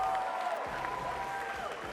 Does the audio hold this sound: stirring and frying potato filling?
no